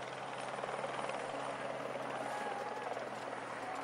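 Helicopters flying over the Tour de France cycling peloton give a steady, continuous rotor drone with even pulsing throughout.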